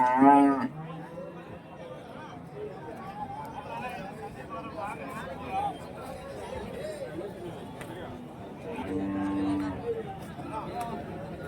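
Cattle moo repeatedly at a busy weekly cow market for HF and Jersey cows in Karimangalam, Dharmapuri district, with a loud call at the start and another near the end over steady crowd chatter and people talking.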